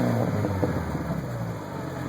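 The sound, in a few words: 2000 Jetta 2.0L engine revving with OBX cat-back exhaust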